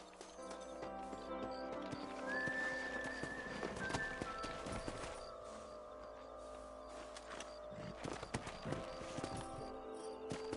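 Horse hooves clop in Red Dead Redemption, a steady rhythmic stream of hoofbeats under game music, with a brief whinny and faint rustling along the way.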